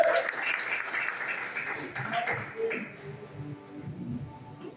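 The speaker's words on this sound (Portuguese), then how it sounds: "Vamos dar um aplauso ao Senhor." A church congregation applauding, a steady wash of clapping from many hands that thins toward the end, with voices talking over it.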